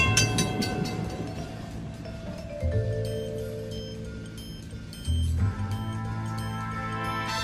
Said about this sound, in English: the train is departing the station.